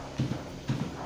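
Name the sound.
cows' hooves walking into the milking parlour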